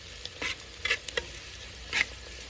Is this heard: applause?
no